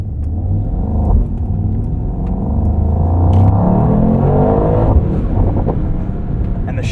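A 2024 Mercedes-AMG GT63 coupe's engine revs and climbs under acceleration from inside the cabin, its 9-speed gearbox snapping through quick, hard shifts with a deep, steady rumble throughout.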